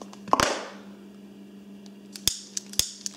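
A gas torch lighter's igniter clicks while barely lighting. Two sharp, close clicks come first, then after a quiet pause several more quick clicks follow, each short and crisp over a faint steady hum.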